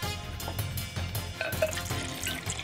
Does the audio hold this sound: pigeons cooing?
no